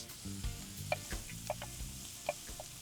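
Fresh seasonal tomato dropped into a hot pan for white bean tacos, with a steady close sizzle and several sharp scrapes and clinks of stirring spaced through it.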